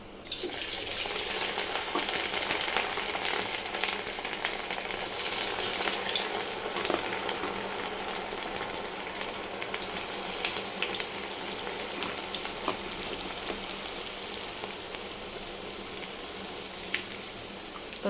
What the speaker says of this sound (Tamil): எண்ணெய் நல்லா சூடாகிடுச்சு பாருங்கள் இப்போ இதை பொரிக்கலாம்